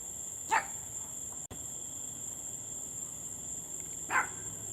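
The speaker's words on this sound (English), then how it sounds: "The lovely sound of dogs at night." Dogs bark in a neighbourhood at night, two short distant bursts a few seconds apart against a steady hiss, with a faint click between them and no talk.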